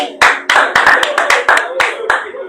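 A small audience at a French-language Christian television broadcast claps in sharp, distinct bursts, about ten separate loud claps close to the microphone with short gaps between them.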